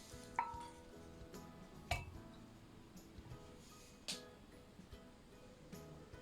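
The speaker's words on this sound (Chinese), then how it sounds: "加入200克的牛奶，搅匀。" A spoon stirring 200 g of milk into chocolate glutinous rice cake batter in a small bowl, with faint scattered clinks against the bowl over a quiet background.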